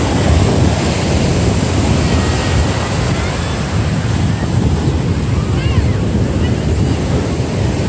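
Waves wash and break on a beach under steady gusting wind that buffets the microphone, a loud, continuous roar of surf lasting throughout.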